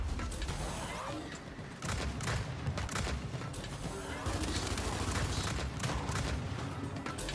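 A dense, continuous battle in Gears 5, with enemies blasting at the player: heavy layered gunfire and booming explosions that stay loud and chaotic throughout, with no clear gaps.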